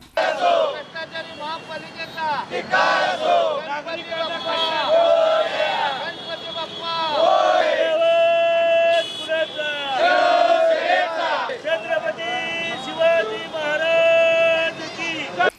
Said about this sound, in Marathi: या प्रसंगी कार्यकर्त्यांनी घोषणा देऊन परिसर दणाणून सोडला होता